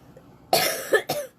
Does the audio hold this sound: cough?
yes